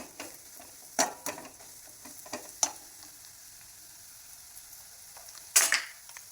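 A spoon scrapes and taps around a pan of spiced pea curry, giving several sharp clinks spread across a quiet stretch, with a louder clatter near the end over a faint low sizzle.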